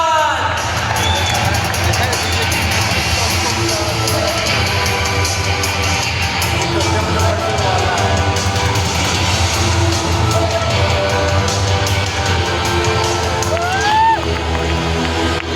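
A large conference-hall crowd at a stock market conclave cheers and applauds as a speaker is introduced. Continuous loud applause and whoops run throughout over booming background music, with a brief rising whistle near the end.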